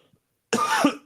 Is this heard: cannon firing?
no